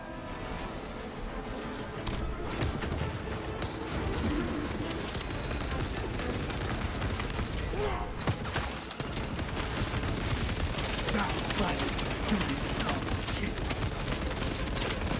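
Heavy bolter gunfire in a Warhammer 40,000 Space Marine video game fight, a continuous, loud hammering barrage with booming impacts and explosions layered throughout.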